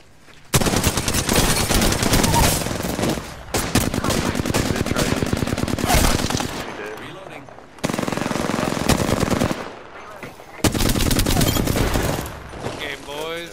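Loud sustained bursts of automatic gunfire from an Apex Legends firefight, in long dense volleys separated by short pauses, with players talking over the shooting.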